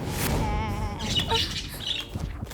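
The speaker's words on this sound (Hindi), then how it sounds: "ये तोता इतना फड़फड़ा क्यों रहा है?" Parrot squawking and flapping its wings in a film scene, a burst of harsh calls and fluttering rustle that is close and loud, with no talk.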